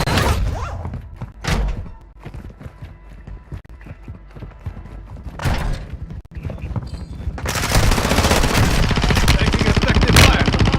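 Video game gunfire in a shooter match, with scattered loud shots and thuds early on, then a dense, sustained burst of rapid automatic fire building toward the end, close and loud without clear talk.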